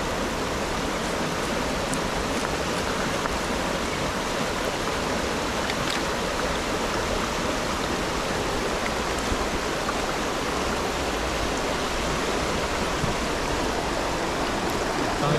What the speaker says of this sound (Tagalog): Hapon na, nandito pa kami sa ilog.